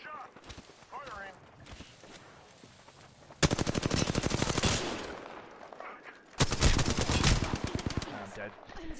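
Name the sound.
gunfire in a PS4 video game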